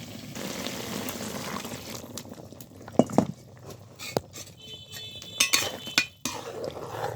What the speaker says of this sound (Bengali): এবার গরম পানি দিয়ে দেব।